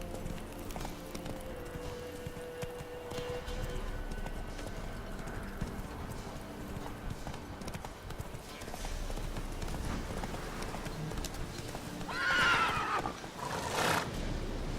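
Horse hooves clip-clop steadily through a stretch of The Witcher 3 gameplay, a continuous galloping rhythm that runs the whole way, with a brief whinny near the end over ambient game sound.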